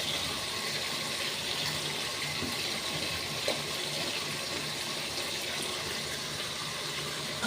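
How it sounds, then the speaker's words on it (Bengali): Water is added to fish cooking in a pan with fried spice paste, giving a steady, unbroken rushing hiss that stays at one level throughout. "দিয়ে দেবো একটু করে জল"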